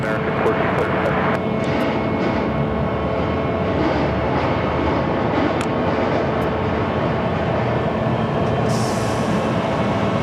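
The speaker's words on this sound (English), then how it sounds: "Next takeoff on 7 left." An Airbus A321neo airliner roars loudly and steadily down runway 7 left at Phoenix airport on takeoff, a dense continuous engine rumble filling the whole stretch, with a voice talking over it.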